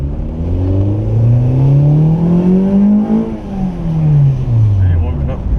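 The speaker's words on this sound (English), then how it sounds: "So hear the engine" An engine-swapped Honda EM1 with a Yoshimura exhaust accelerates hard. The loud, close engine note climbs in pitch, drops briefly at a shift, then climbs again before easing off.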